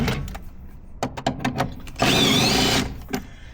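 An impact gun zips off the upper suspension bolts on a VW MK4 with air suspension, a sustained loud whirring burst after several short sharp knocks and clanks.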